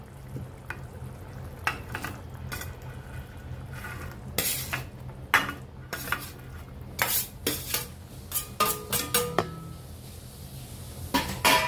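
Fried vegetables stirred into a yogurt-based paneer gravy in a pan: a spoon scrapes and clanks against the metal in irregular bursts over a low, steady sizzle, close and fairly loud.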